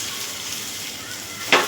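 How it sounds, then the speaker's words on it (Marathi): Finely chopped onion frying in a little oil in a pan gives a steady soft sizzle, ending in a brief louder hiss as it is stirred or added. "एक छोटा कांदा कापून घेतला आहे, चिरून घेतला असा बारीक, तो टाकते याच्यावर"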